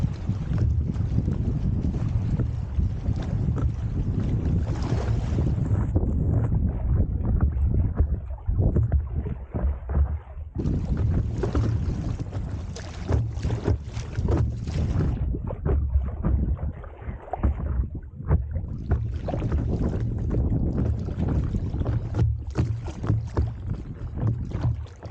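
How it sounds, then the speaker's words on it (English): A paddleboard is paddled through water among trees on a cold day, with a steady wash of water and paddle splashes under constant wind buffeting on the microphone, continuous for the whole stretch with no talking. "Back on the paddleboard. Let's just try to paddle through as many trees as possible"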